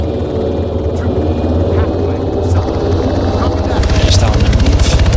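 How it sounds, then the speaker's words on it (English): Helicopter engines idle in a military video game while a craft waits for extraction, a steady rotor drone and low thump filling the scene, louder and more rhythmic toward the end. "Get in this helicopter. He'll keep the engines running"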